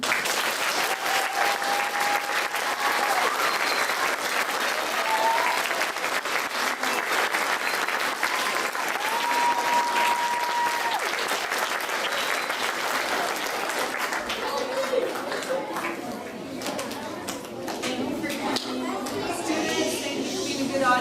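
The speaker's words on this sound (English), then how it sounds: "let's give these brave group of actors one last round of applause" Audience of students and teachers applauding after a fourth-grade school play, a steady, loud wash of clapping filling an indoor space, with some crowd chatter and children's voices mixed in toward the end.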